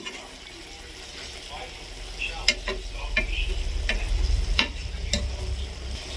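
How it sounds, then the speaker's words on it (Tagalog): Chicken simmering and frying in coconut milk with bagoong is stirred in a pan, with sizzling under repeated scraping and stirring clicks, close and fairly loud, and a soft voice faintly in the background. "Pagkatapos, haluin natin. Ayan po. Halo-haloin natin."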